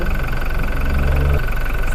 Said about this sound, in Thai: ต้องลองฟังเสียงเครื่องยนต์ ต้องเดินเรียบไม่สั่น